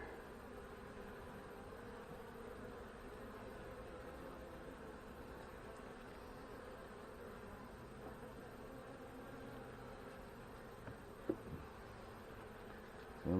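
Honey bees drone softly inside a hive box that holds only a few bees, a faint, continuous buzzing hum with a brief tap near the end.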